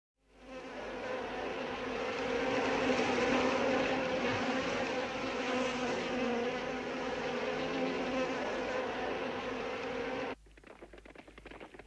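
A high, thin insect buzz drones steadily for several seconds, close and persistent, then cuts off suddenly, leaving faint rustling.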